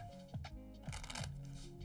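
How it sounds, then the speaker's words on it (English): A deck of playing cards being shuffled up close, with quick riffling bursts and soft slaps as the cards fall together, repeating several times over a quiet room. "Shuffle."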